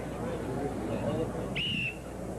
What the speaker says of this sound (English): Hal Connolly, the director of events, will blow the whistle to start them.